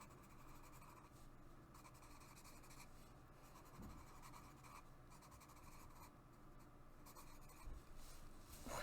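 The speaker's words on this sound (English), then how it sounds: "It's definitely easier to write with this pencil because it's softer." A soft pencil scratches steadily across paper while writing out names by hand, close up, with a continuous, fine scraping texture and small pauses between strokes.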